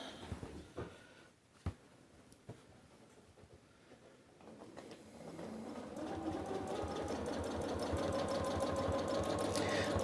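A sewing machine stitches free-motion and ruler-work quilting on a flying geese quilt, its fast steady needle chatter starting sparse and quiet after a few soft clicks, then running continuously and louder through the second half.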